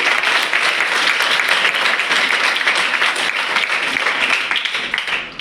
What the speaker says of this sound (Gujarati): તો આપ સૌ માટે એક જોરદાર તાળી પાડી દો